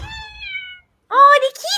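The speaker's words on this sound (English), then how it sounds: "Oh, the kitties!" A cat gives a drawn-out meow close by, then after a short pause a second, higher wavering meow follows while a person speaks.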